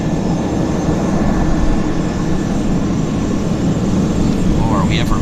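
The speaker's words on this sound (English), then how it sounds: "Q400 now on the roll." A Q400 turboprop begins its takeoff roll at Vancouver airport, a loud, even broadband engine roar held steady from start to finish.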